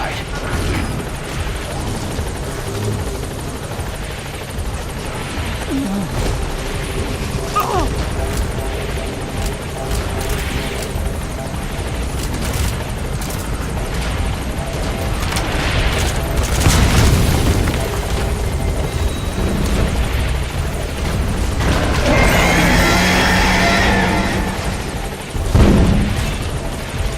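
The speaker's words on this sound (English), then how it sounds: "All right, the chopper's touching down." Helicopter in Metal Gear Solid V descending to land, a continuous loud rotor roar with booming thumps and bursts layered over it, growing heavier near the end.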